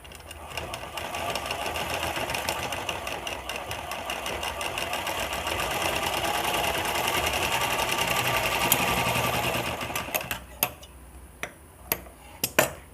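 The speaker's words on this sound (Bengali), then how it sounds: "দেখুন অপর দিকেও ঠিক এইভাবে ভাঁজ দিয়ে আমি একটা সেলাই করে নিব" A sewing machine stitches folded fabric in a fast, steady run of whirring, ticking stitches. It stops near the end and leaves a few isolated clicks and taps.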